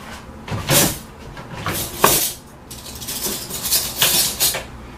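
A spoon picked up from among metal cutlery in a kitchen, with several clinking rattles and clatters in short bursts, close by and moderately loud, with no talking.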